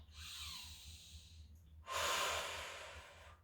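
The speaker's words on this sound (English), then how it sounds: "Take a deep breath in and out." A slow, deep breath taken in through the nose and let out in a long, soft exhale during a Pilates stretch, quiet and close with a short pause between.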